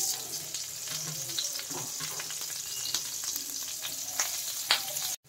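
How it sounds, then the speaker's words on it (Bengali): Dried red chillies, green chillies and garlic sizzle and crackle steadily in hot oil in a kadai, a continuous close frying hiss with small pops and occasional utensil clicks, no voices, cutting off abruptly at the end. "এবার শুকনো লঙ্কা আর কাঁচা পাকা লঙ্কাটা আমি একটু ভেজে নেব, তার সঙ্গে রসুনগুলোও দিয়ে দেবো।"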